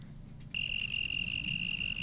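A sustained high-pitched insect trill starts abruptly and holds steady, like a cricket chirping loudly over a low background hum.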